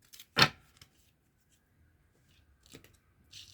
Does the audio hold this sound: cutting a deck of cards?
yes